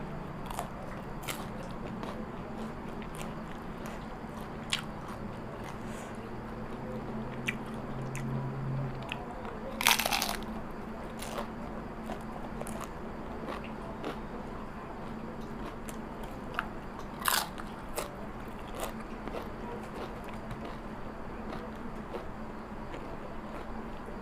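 Crunchy fried wontons being bitten and chewed up close, with sporadic sharp crunches and a few louder bites over a quiet background.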